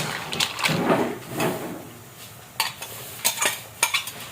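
Mixed vegetables being stirred into butter garlic seafood in a pan produce soft scraping and stirring noises, followed by a few sharp metal clinks of a utensil against the cookware, close and moderately quiet.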